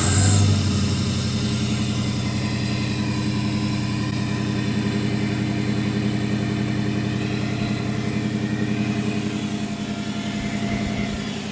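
A 1970 Chevrolet Nova with a swapped LS1 V8, long-tube headers and cold air intake runs steadily near and loud, a throbbing low rumble holding for the whole stretch with no talk over it.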